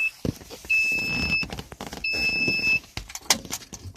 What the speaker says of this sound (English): Now we hear the alarm going off in there, and that's because the key is on.